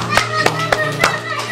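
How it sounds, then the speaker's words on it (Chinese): A handful of sharp, scattered hand claps, about four in quick succession, applaud a child who has just finished a run of fast exercise moves before standing up, over a steady low background hum. "掌声"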